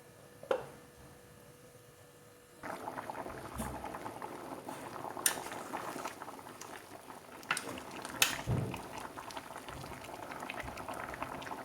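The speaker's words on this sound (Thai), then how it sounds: "เดือดปุดๆเลย" Beef and pumpkin curry boiling in a pot, with steady close bubbling and popping that grows busier after a quiet start, plus a few clinks and bumps.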